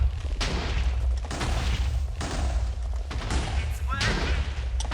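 Several booming Minecraft TNT blasts in quick succession, loud and muffled, with brief gaps between them.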